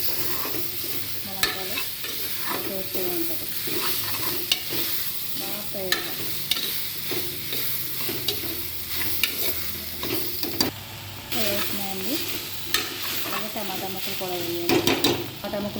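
Drumstick curry with coconut and ginger frying in a pan: a steady close sizzle runs throughout, broken by frequent scraping stirs and light ticking clicks of the utensil against the pan.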